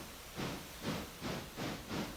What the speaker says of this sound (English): Our train is pulling out.